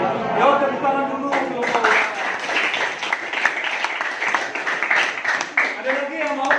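Classmates in an Indonesian classroom clap for a group that has just finished presenting, a dense patter of hand claps rising after a second and continuing steadily, with voices talking over it at first.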